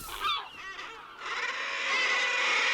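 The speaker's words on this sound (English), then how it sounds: "Here, seabirds come together in dense colonies to breed." A dense seabird colony calls from sheer Scottish sea cliffs: harsh, honking cries come loud and close at first, then a steady wash of overlapping calls from many birds swells into the distance.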